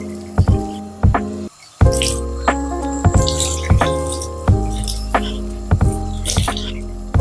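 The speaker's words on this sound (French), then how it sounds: "moi je me penche sur ma baignoire pour me laver les cheveux" Running water while a woman leans over a bathtub washing her long hair with shampoo: a steady close flow splashing and dripping, with frequent squelchy wet hand and hair sounds throughout.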